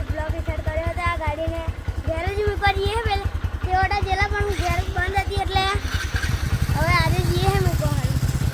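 A motorcycle engine idles with a steady, pulsing low thrum throughout, while a voice rises and falls over it.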